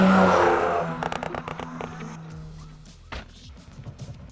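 Volkswagen or Audi manual car with a no-lift-shift tune accelerating hard, engine roaring loud at first, then a burst of rapid crackles and pops through the shifts as the throttle stays pinned, fading toward a lower rumble.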